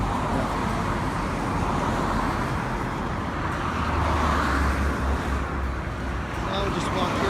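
Motorcycles and other traffic roll past on a road beside a river harbour in a steady, loud roadway rumble, with a heavier engine swelling midway through.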